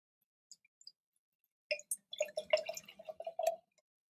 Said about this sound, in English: We're going to go ahead and pour this up